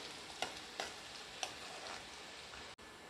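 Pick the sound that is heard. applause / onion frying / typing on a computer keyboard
onion frying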